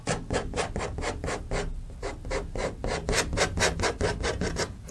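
Rhythmic rasping scrapes of a painting tool dragged across paint on a canvas, about twenty quick strokes in steady succession, close and fairly loud with no talking.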